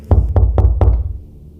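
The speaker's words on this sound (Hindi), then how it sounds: "ये आवाज अंदर वाले दरवाजे की है या बाहर वाले पे कोई नॉक कर रहा है" Four sharp knocks on a door in quick, even succession, loud and close, followed by a short fading resonance.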